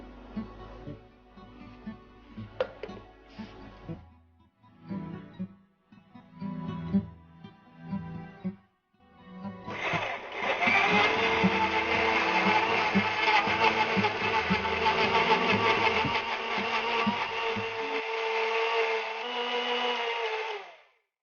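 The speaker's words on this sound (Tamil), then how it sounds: "அப்படியே போட்டு அரைச்சிடலாம்." A mixer grinder whirs loudly as it grinds tomatoes for navarathna kurma, a steady high-pitched roar lasting about ten seconds before it cuts off. Before it starts, there are kitchen clatter and people talking.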